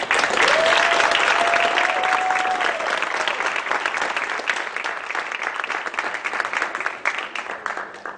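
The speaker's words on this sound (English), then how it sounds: "Let's have one more round of applause for our winners" Sustained applause from an audience honoring winners at the 35th annual Dr. Martin Luther King Jr. awards presentation, steady and loud throughout, with a brief tonal whistle or cheer early on.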